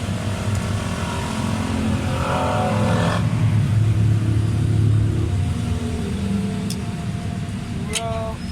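A Mitsubishi Lancer with a spark plug and fuel fault and a rough idle revs repeatedly, its engine note swelling and falling as the rpm climbs and drops. A person talks nearby over the steady engine rumble.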